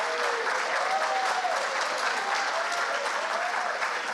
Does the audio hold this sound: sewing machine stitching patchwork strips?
no